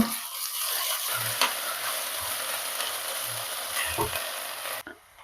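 Ginger garlic paste sizzles in a pan while a spoon scrapes and stirs it in repeated strokes, close by and without speech.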